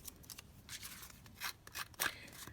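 Metal craft scissors are picked up and handled at a desk: a few short, close clicks and scrapes of the blades and handles, brief and fairly quiet, with no talking.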